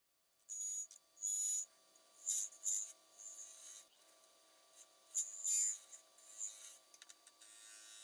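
A woodturning tool cuts across the top of a spinning spalted apple box on the lathe, producing a series of faint, hissing scraping strokes separated by short pauses over a low motor hum.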